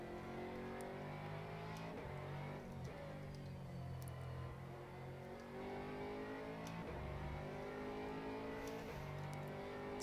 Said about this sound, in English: It sounds and looks kind of like a Corvette with the lights.